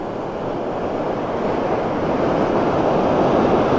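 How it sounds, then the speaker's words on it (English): Flooded Corbeau Creek at Route 22 in Scioto, normally a trickle, roaring as a gushing rapid: a steady, dense rush of water that builds slightly and runs alone without any voices. "There's a gushing rapid today."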